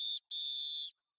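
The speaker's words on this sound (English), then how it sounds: "The whistle actually jars me a little bit" A shrill, steady whistle sounds in two blasts, a short one followed by a longer held one, loud and clean against silence.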